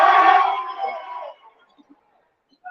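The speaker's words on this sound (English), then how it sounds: "Crowd comes alive" Basketball crowd at a high school game between Newberry and Manistique erupts in a loud cheer that swells briefly and then fades to near silence within about a second and a half.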